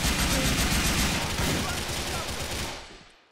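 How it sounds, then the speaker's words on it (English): Gunfire in the GTA IV video game, a dense, continuous crackle of shots mixed with loud background noise and faint voices, fading out at the end. "Still someone shooting at me though"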